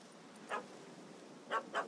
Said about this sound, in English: Don't know how to handle yappy little dogs?